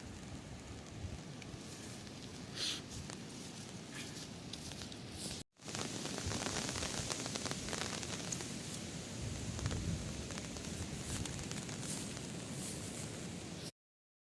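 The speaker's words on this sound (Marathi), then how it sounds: "बघा येता पाऊस या साईडनं बघा." Soft, steady rain hisses in the distance, a faint continuous patter broken once by a brief cut in the sound.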